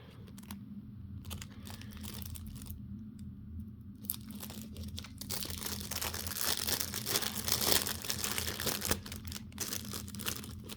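Plastic packaging from a Shein order being unwrapped by hand, close crinkling and tearing in irregular bursts that grow busier and louder midway, with no voices.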